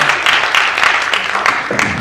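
Audience applauding at a high school Honor Bowl quiz competition, a steady dense wash of clapping filling the room for about two seconds with faint voices mixed in.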